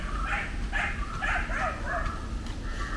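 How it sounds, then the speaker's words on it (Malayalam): A dog barks in a quick series of short, sharp yaps and whimpery barks, six or so in a row, moderately close over a low background rumble, with no talking. "ഈ നമ്മുടെ പട്ടി എന്തിനാണ് കുറയ്ക്കുന്നത് എനിക്ക് മനസ്സിലാവുന്നില്ല."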